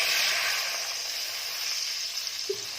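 Fried garlic sizzles steadily and close up in a pan, a dense bright hiss that holds for nearly three seconds and eases slightly toward the end after water is added.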